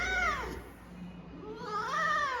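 A cat meows loudly and insistently in drawn-out, rising-and-falling cries, two long calls close to the listener with no talking over them.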